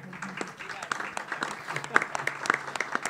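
A conference audience claps for a panel at a São Paulo music event, a moderate burst of applause with scattered sharp claps, while a voice speaks over it.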